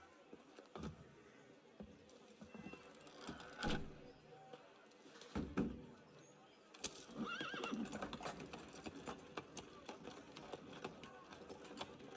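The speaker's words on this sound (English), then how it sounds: "The horses need brushing, boy." Horses neigh and their hooves clip-clop in a stable yard in Assassin's Creed Unity, with a few loud whinnies rising over a quiet game ambience and scattered character voices.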